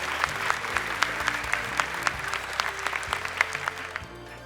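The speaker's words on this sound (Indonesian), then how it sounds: "Silakan tepuk tangan untuk 3 peserta terakhir kita." Audience applause for three final contestants on Hafiz Indonesia 2025, a Quran memorization competition show, with steady clapping and sharp individual claps over a low musical bed throughout.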